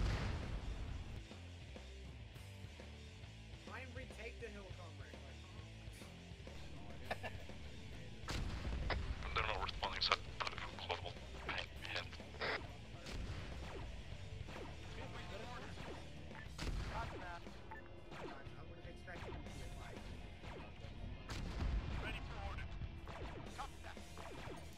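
Artillery fire in a Star Wars Clone Wars video game, with repeated booming blasts and crashing impacts, some close and loud, others more distant, rolling on irregularly for the full stretch. Voices talk over the barrage at times.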